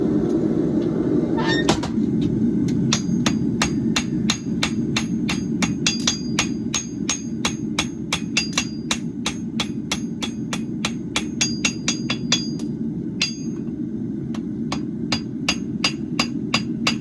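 A hammer strikes a hot bar on an anvil during forge welding, with sharp metallic blows at a steady rhythm of roughly two to three per second, loud and close over a low background roar.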